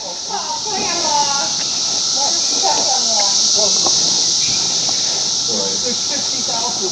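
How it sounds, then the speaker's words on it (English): Continuous high buzzing from massed cicadas in a backyard during the 2024 emergence, loud and unbroken, with a child's and adults' voices chattering over the chorus. "Hunting for cicadas."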